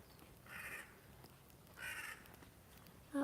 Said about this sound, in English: Oh, I hear a crow.